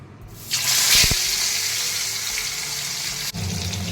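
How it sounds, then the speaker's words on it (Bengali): Bhetki fish dropped into hot mustard oil sets off a loud, bright sizzle that swells after a brief thump and holds steady, with a sharp clatter near the end. "এবার আমি আস্তে আস্তে মাছটা ভেজে নেব"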